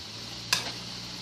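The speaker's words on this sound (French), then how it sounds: "Et on laisse sous le feu mijoter, réduire presque" Minced meat and vegetables with chicken or vegetable stock simmering and reducing in a pan on the stove, a faint steady hiss with one brief burst of sizzle, quiet and alone.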